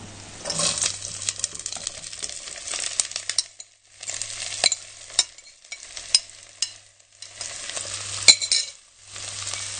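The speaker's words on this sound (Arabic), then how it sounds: "هشوحه كده في السمنه" Vegetables sautéed in homemade ghee sizzle and fry in a pan while a spoon stirs them, the scraping and sizzling coming in three bursts with brief pauses between, close and fairly loud.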